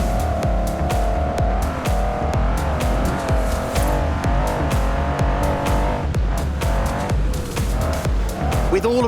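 A six-wheeled 6x6 truck driving in the video game Forza Horizon 4, its engine droning steadily and loudly throughout with shifting pitch and occasional tire noise, no talking.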